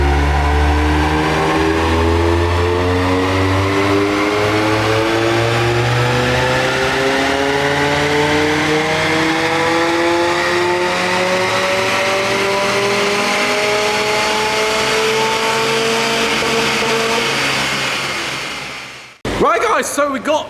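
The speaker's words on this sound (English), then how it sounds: "we're now going to do a dyno run to see what power we've got out of the stage 1 with the new exhaust" A Mazda MX5 with a stage 1 tune and new custom catback exhaust revs hard on a dyno, climbing steadily through its range for a long sustained pull, loud and close, then cutting off abruptly near the end.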